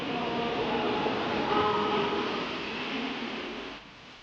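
Battle of Britain class steam locomotive of British Rail's southern region hauling an express train, a steady rumbling rail roar that fades slightly toward the end.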